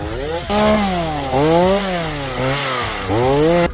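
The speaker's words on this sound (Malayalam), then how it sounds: "അങ്ങനെ 4ാമത്തെ മരം ഫോറസ്റ്റ് റോഡിൽ നമ്മൾ ഇതാ വെട്ടി മാറ്റിക്കൊണ്ടിരിക്കുകയാണ്" Chainsaw cutting through a fallen tree blocking a forestry road in Australia: a loud, close engine that drops back and revs up again several times as the chain bites into the wood, with no talking over it.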